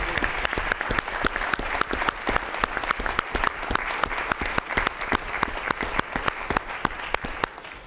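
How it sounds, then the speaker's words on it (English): An audience at a science lecture gives a sustained round of applause, with many distinct claps over a dense background of clapping, loud and close, with no talking over it. "let's give Wellston and the Wellston community a big round of applause"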